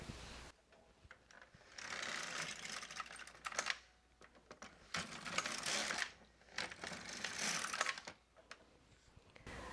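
A domestic knitting machine knits rows with all needles pulled out, its carriage sliding across in long rattling, clicking passes separated by brief pauses, fairly close and steady, with no speech.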